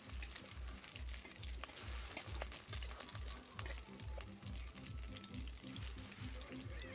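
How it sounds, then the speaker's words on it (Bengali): Slit green chillies frying in hot oil in a wok give a steady, close crackling sizzle with faint stirring, no talk over it. "কড়াইতে তেল দিয়ে দিয়েছি কিছুটা চেরা কাঁচা লঙ্কা। লঙ্কাটা দিয়ে কিছুটা ভেজে নেব"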